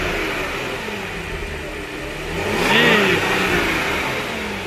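Supercharged V6 engine of a B8.5 Audi S5 fitted with an Injen cold air intake, idling then revving up and settling back, with a rising supercharger whine over the engine note, close and loud.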